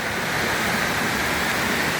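Strong floodwater mixed with mud rushes past in a continuous, loud, steady roar with no pauses.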